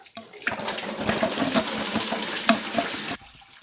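Liquid pours steadily into a bucket, coolant draining from a Jeep Cherokee XJ radiator during a radiator swap, a continuous splashing trickle lasting about three seconds before stopping abruptly, with nobody talking.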